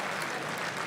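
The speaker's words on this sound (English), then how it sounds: "Can we give a round of applause to Gorge and his mention of Kendrick Davis?" An awards night crowd claps in a dense, steady burst of applause, loud and close, filling the whole brief moment without talk.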